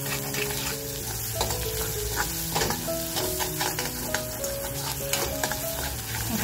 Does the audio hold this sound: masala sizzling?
yes